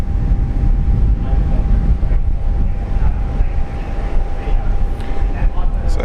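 A China Southern airliner departs Brisbane bound for Guangzhou, its loud, steady jet engine roar filling the scene as a broad continuous rumble with wind buffeting.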